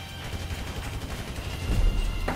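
Gunfire in Grand Theft Auto V Online: a sustained rattle of rapid shots that swells louder toward the end, with no talking.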